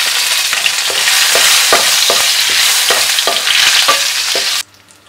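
Curry leaves hit hot oil already crackling with mustard seeds, cumin and asafoetida, giving a loud, dense, continuous sizzle with regular stirring clicks. The sound cuts off abruptly near the end.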